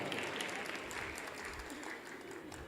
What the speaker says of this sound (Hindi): मैं चाहता हूँ ज़रा तालियां बजा दीजिए एक मरतबा मोहतरमा के लिए।